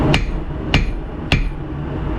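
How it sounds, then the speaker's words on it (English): A blacksmith's hammer strikes three times at an even, unhurried pace while forging a knife blade, each blow a sharp, loud ringing impact with short decay over a steady background hum. "I'll pick that hammer up, push that hammer down when you pick it up"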